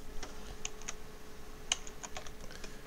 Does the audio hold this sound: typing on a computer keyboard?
yes